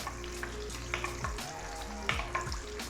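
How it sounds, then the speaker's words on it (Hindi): Katori-shaped roti frying in hot oil for street-style katori chaat, a dense continuous sizzle with bubbling crackle and occasional scrapes and clinks of a spoon splashing oil over it. "गोल्डन होने तक इसको मैं ऐसे ही फ्राई करूंगी"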